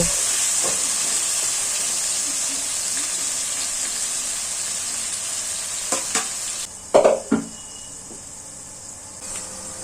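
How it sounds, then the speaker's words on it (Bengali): Potato pieces frying in hot oil left over from frying fish heads in a home kitchen, a steady loud sizzle and hiss throughout, with a few brief clatters of a utensil near the end. "ওই তেলের মধ্যেই আমি আলুগুলো সব ভেজে নেবো"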